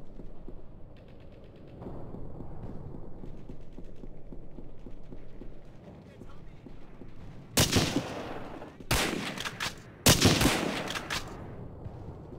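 Gunfire in the game Hidden & Dangerous, three loud bursts of shots in the second half following a stretch of low rumbling and mechanical creaks.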